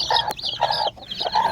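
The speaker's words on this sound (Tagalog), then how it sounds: "Malalaking manok yan ha" Large chickens clucking close by on a small backyard farm, a rapid series of short repeated clucks in quick rhythm, alone without talk.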